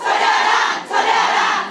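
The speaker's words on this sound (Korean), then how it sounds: "어린이집 연합회 관계자 200여 명이 야유와 고성을 쏟아냅니다" Around 200 daycare association members at a public briefing in Gangneung boo and shout together in a loud, continuous roar of jeers and yells that dips briefly midway before surging again.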